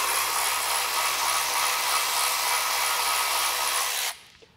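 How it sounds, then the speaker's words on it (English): An electric ratchet removes 13 mm bolts on a Tesla Model Y during a hitch install, a loud, steady, close whir that runs continuously for about four seconds, then cuts off abruptly, with no talk. "So you're gonna go ahead and grab either a ratchet or electric ratchet, whatever you have. Let's go ahead and remove this."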